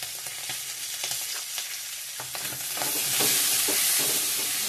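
Salt and turmeric frying in a pan as they are stirred, giving a steady close sizzle that swells louder in the last second and a half, with no voices.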